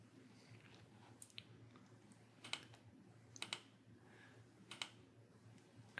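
Light keystrokes on a computer keyboard while entering an ID into shape-linking software, a few scattered soft clicks in short bursts over a low steady hum, quiet and close with no talk.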